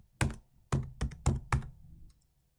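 A computer keyboard typing a short word: five crisp, separate key clacks at an uneven pace, close and loud against silence, with no one speaking.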